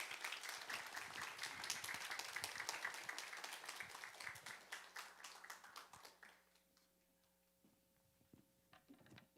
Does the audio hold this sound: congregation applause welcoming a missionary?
yes